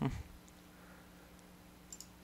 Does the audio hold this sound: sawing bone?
no